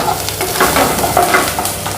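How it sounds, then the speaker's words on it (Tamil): Onion, mustard seeds, urad dal and curry leaves frying in oil, stirred continuously. A loud, close sizzle runs under repeated scraping stirs of the pan, with no voices. "வெங்காயம் வதங்கிடுச்சு."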